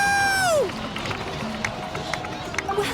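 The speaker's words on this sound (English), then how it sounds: "Let's give a huge round of applause to our brave young warrior, Kachina!" A crowd in the Genshin Impact Natlan storyline cheers and claps for a young warrior after a falling electronic swoosh, with scattered claps and shouts at a moderate distance.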